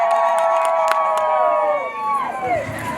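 A church congregation ululates with high, wavering trills from several voices at once, loud and close over crowd hubbub, with a few sharp claps.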